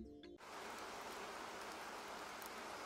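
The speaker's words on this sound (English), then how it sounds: "The default sound is the sound of rain." Rain setting from an iPhone's iOS 18 background sounds switches on after a brief pause and plays a steady, even hiss of falling rain, uniform and continuous at low level.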